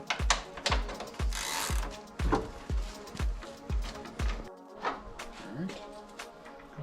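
A ratchet clicks in quick, regular bursts while removing 10mm headlight housing bolts on a Toyota Tacoma, close and fairly loud, with a brief pause partway through and light talk faintly underneath.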